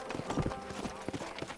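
Horse hooves clip-clopping in the video game Red Dead Redemption, a quick rhythmic run of close hoof strikes at a steady gait.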